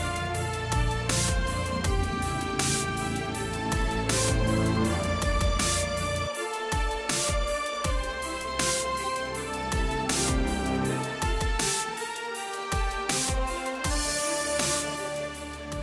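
Orchestral video game music cue for a mech bot enemy attack, with strong brass and high and low strings over pounding percussion hits, dense, loud and continuous for about sixteen seconds, no voices.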